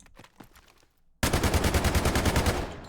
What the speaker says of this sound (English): I want to demonstrate how the Scar H performs without any attachments